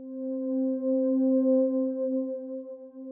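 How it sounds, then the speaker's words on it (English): Deep Space Diva pad preset from the Diva synthesizer, a single sustained tone held steadily for about three seconds with a smooth, warm, slightly wavering body and no other sounds. "Diva has this wonderful preset called Deep Space Diva, or you can just hit right once and this preset automatically opens up"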